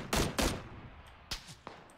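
Suppressed gunfire in the battle royale game PUBG: two sharp muffled shots close together, then two fainter, more distant cracks after a pause, with no talking.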